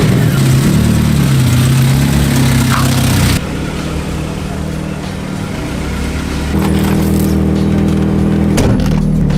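Mazda Miata drift car engine running at a close, loud idle, briefly revving, then dropping to a quieter steady hum before picking up again.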